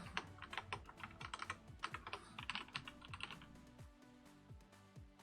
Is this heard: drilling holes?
no